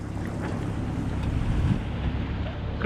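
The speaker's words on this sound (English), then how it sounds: "Engine's just on tick over." A sailing yacht's engine idles at tick over beneath steady wind and water noise, a low continuous rumble heard alone without talk.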